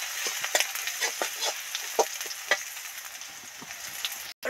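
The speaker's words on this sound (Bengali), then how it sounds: "এবার এই রসুন বাটা না রসুন থেতোটা এর মধ্যে দিয়ে দিচ্ছি।" Crushed garlic frying in hot oil in a wok, a steady close sizzle with scattered crackles and spatula scrapes, ending in a brief dropout.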